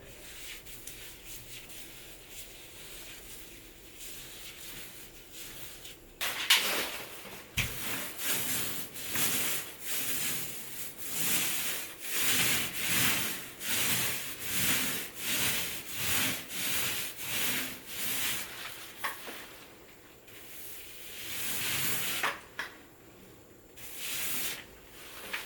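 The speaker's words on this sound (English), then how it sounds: "Might actually get the roller and roll the rest in." A paint roller rolling sealer onto a ceiling during a repair, a faint, rhythmic sticky swishing in repeated back-and-forth strokes, starting after a quiet opening, close and without talking.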